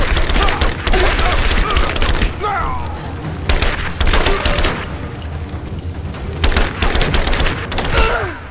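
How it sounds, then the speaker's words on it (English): Machine gun fire in the Rise of the Tomb Raider video game: loud rapid bursts of automatic shots in several volleys, separated by short gaps, with in-game shouts and groans between them. "Okay, time for machine gun."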